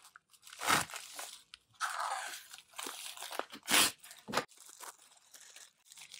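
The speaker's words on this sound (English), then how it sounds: "I did that thing where I actually cut a plastic bag while opening the envelope" A mail envelope is torn open and a plastic bag inside is cut, producing close, sharp bursts of tearing, crinkling and crunching paper and plastic separated by short quiet gaps.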